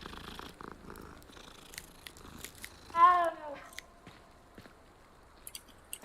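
A cat in the Hogwarts Legacy video game purrs softly while being petted, a low steady rumble with a brief louder cat sound midway and faint clicks and footsteps around it.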